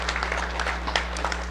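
An audience at an All Pro Dads school gathering gives a round of applause, a brief burst of scattered, uneven clapping with a few sharper hand strikes over a low background hum.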